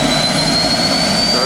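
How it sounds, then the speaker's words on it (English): A futuristic concept car's engine starts up and runs loud and steady, with a dense broadband roar and a thin high whine, up close for the whole moment. "Started it right up."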